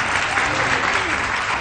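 Studio audience clapping on a Hindi morning TV show, loud, dense and continuous applause filling the room with a steady even roar of many hands.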